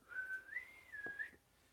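A male pet bird whistles a catcall-style tune: a clear, fairly quiet whistled line that bends up, holds, then dips and rises again, alone with no talking.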